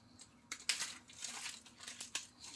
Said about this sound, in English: I have to open this plastic bag.